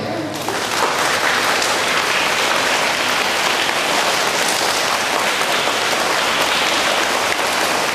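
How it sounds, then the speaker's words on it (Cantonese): An audience at a school anniversary ceremony applauds to thank the teachers, a dense, steady wall of clapping from many hands that rises quickly and holds loud and even throughout. "咁我哋都用掌聲咧去多謝佢哋"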